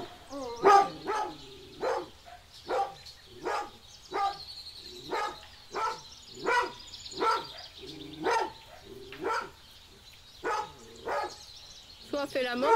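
A dog barks repeatedly outdoors in a village in Andalusia, roughly fifteen sharp evenly spaced barks at moderate distance, steady and persistent, with faint ambient background.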